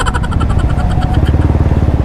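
A Honda CBR 150R rides along a road with its engine droning steadily and loudly up close. The pulsing is rhythmic and even, and no voices are heard.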